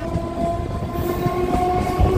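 A local train on the Gede line stands nearby, with a loud continuous rumble and steady tonal hum close by, with no talking.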